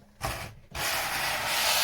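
Hand sanding of a wooden edge being shaped on a Shetland project: two short scratchy strokes, then one long, steady abrasive rub, close and clear with no talk.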